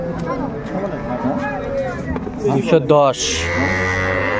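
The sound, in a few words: dairy cow at cattle market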